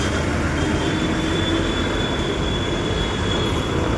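A metro train runs near Kukatpally station, its wheels rumbling in a steady loud roll with a thin, high squeal sustained over the noise and no voices.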